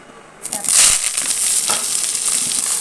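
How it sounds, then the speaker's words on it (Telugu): Tamarind sizzling in hot oil while making a Telugu spice powder with curry leaves, drumstick leaves and flaxseed; a sudden loud, bright sizzle starts after a short quiet moment and keeps crackling steadily. "చింతపండు కొద్దిగా వేసుకుని వేయించుకోవాలి కారపూడి కాబట్టి ఆయిల్ వేస్తున్నానండి"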